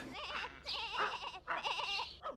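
A goat bleats loudly and close in a fight with a dog, giving two long wavering cries followed by a short clipped bleat, with no other voices.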